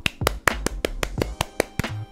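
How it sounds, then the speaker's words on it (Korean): One person claps alone, about ten crisp, close hand claps at a steady, fairly quick pace with no other voices. "제가 셀프 박수를 드리겠습니다"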